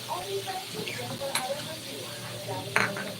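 Galunggong (round scad fish) crackles and sizzles in a frying pan, with soft utensil clinks and a brief sharp scrape near the end; faint voice in the background.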